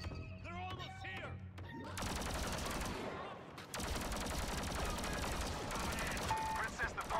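Blaster gunfire in Star Wars Battlefront 2 crackles in rapid, dense bursts through most of the stretch, loud and continuous, with battle noise around it after a brief lull.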